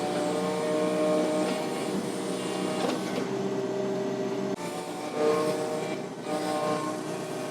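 A mini excavator's engine runs steadily nearby, a droning mechanical hum with whining tones that dips and swells slightly as the load shifts; no one speaks.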